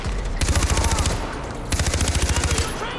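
Rapid automatic gunfire in the Far Cry 4 video game, two sharp bursts of fast repeated shots separated by a short pause, loud and close.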